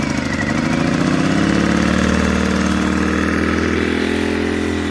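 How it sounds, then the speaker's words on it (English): A Sportsman GEN1000i inverter generator runs steadily close by, its small engine droning evenly and settling to a constant pitch as it warms up with the choke partly on. "I'm going to set the phone on top of the generator and pull it"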